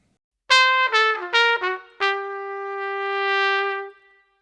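Solo trumpet plays a brief bebop-style jazz line, a few quick notes with the lower ones softer and the upper ones accented, ending on a long held note that fades out, close and clear with slight echo.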